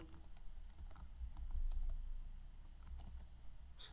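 Soft, steady typing on a computer keyboard entering a password in Kali Linux, a quick run of quiet clicking keystrokes over a low background hum.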